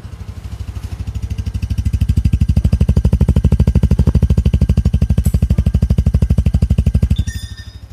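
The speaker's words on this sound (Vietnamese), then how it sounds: "đó là tiếng máy của xe" A Yamaha PG-1 motorcycle engine running close by, a steady rapid single-cylinder putter with even rhythmic pulses that rises slightly in pace, then cuts off near the end.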